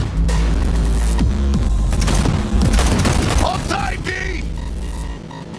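Loud gunfire rattles through a Cyberpunk 2077 car chase, rapid volleys and booms over rumbling engines and mechanical noise, with shouting voices mixed in.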